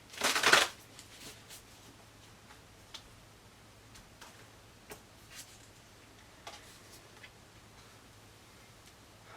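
A burst of oracle card shuffling riffles up close at the start, then scattered soft taps and ticks of cards being handled follow in a quiet room.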